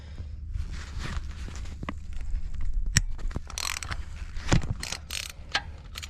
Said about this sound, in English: So let's take our wrench and then just unbolt this guy.